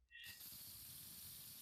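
A spray paint can hisses in the graffiti-styled Doki Doki Triple Trouble mod game, a sudden steady broadband spray that starts after a brief tone and holds at an even level to the end.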